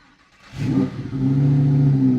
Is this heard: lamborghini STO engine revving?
yes